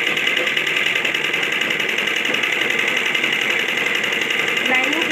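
A sewing machine stitches and joins the front panel of a garment, running as a steady continuous whir throughout, close and even in level.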